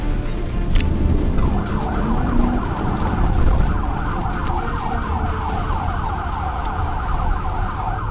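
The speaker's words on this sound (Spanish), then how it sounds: "Cuando Zamora encendió sus luces y sirena, el conductor tocó los frenos" A wailing police siren cycles steadily over rumbling traffic noise, continuous and fairly close for the whole stretch.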